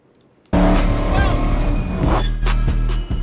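Dodge Hellcat cars roar loudly on a highway in a police-chase scene, engines revving hard with tire noise and passing whooshes throughout, with voices talking over the engines.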